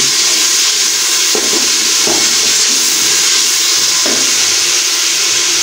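Tomatoes fry for dal in a hot pan with a loud, continuous hiss and sizzle. Faint scrapes of stirring come through a few times.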